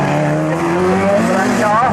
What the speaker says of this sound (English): Gary coming through though with the John Minty powered car, looking very comfortable up front now.